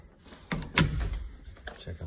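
A coat closet door in a small house opens with a couple of sharp clicks and knocks of the latch and panel, followed by a softer rumbling slide, close by, with no speech.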